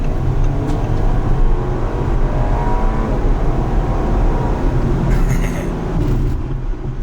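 A 2025 Audi A5 Premium Plus with its 2.0 engine accelerates hard in dynamic mode, a steady loud engine drone with road and cabin rumble running unbroken for several seconds.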